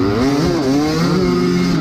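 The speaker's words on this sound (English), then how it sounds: "But my clutch is really, really slipping right now." A dirt bike engine at a motocross track revs high and flares repeatedly with a slipping clutch, the pitch rising and wavering without the bike pulling, loud and close.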